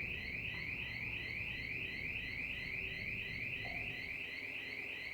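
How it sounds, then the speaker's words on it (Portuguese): A car alarm wails continuously in the background, its high rising-and-falling tone repeating in steady rapid cycles, distant and fairly faint. "é o alarme de um carro"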